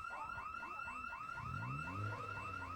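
A trailer alarm in a zombie video game wails loudly and continuously, a rapid warbling whoop repeating steadily, with a low rumble rising beneath it toward the end.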